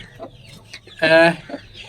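A hen brooding turkey chicks gives a few soft clucks, then one louder, drawn-out cluck close by, in a quiet setting.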